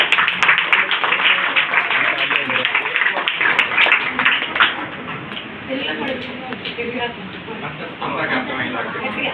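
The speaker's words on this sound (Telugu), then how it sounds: "చప్పట్లు కొడదాం." An audience claps for a prize winner at a church prize distribution, a dense, continuous patter of many hands that starts loud and gradually thins out.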